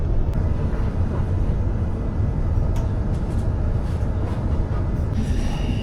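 A loud, steady low rumble of a passenger train in motion, heard from inside, constant throughout with no talking.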